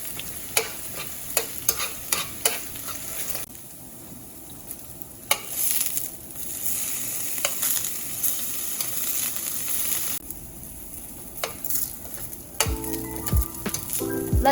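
Tofu sizzles loudly in a hot pan while being pushed around, a bright crackling fry punctuated by repeated scraping strokes and a few sharp utensil knocks toward the end.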